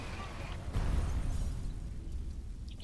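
An explosion in the video game F.E.A.R.: a muffled boom with a rumbling low tail that slowly fades, following a brief crackle, with no speech over it.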